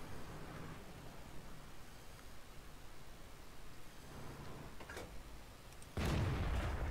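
A single loud tank cannon blast from a Czech autoloading tank in World of Tanks patch 9.13 erupts near the end, after a steady low rumble of engine and ambient battle noise.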